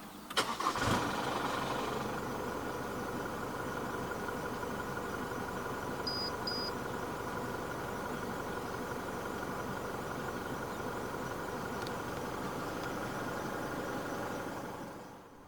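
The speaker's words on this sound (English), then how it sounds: "So to start the D-Max, make sure the key fob is inside the truck." A 2023 Isuzu D-Max V-Cross 3.0 4x4 double cab engine cranks and catches with a short burst, then settles into a steady, even diesel idle that runs on alone.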